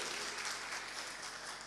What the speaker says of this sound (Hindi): एक बार पूरे मंच के सम्मान में तालियां बजा दीजिए।